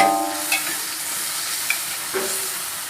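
A spatula scrambles and stirs food in a hot frying pan while making fried wontons, with a steady close sizzle broken by a few sharp scraping clicks against the pan.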